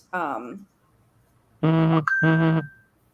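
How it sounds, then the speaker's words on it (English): A mobile phone alert rings out as two loud, sustained electronic tones with a brief high chirp between them, following a short burst of nearby talk. "That was my phone."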